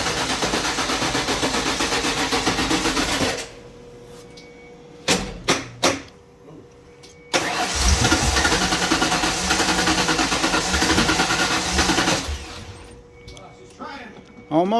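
A 1996 Ford F150 with a newly replaced fuel pump and gas tank, after sitting unused for a year, cranks and runs in loud, close bursts of engine roar. The bursts are separated by a quieter gap and a few sharp mechanical knocks.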